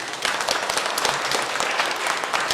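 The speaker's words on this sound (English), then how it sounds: "Clap your hands." A crowd clapping their hands in a body-percussion rainstorm, loud, dense overlapping claps forming a sustained applause-like roar with sharp individual hits standing out, close and continuous.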